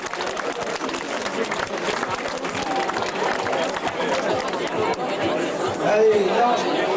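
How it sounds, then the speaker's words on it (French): An audience at a cycling race award ceremony applauds continuously, with crowd chatter and a voice over a loudspeaker mixed through the dense clapping. "On l'applaudit, Simon."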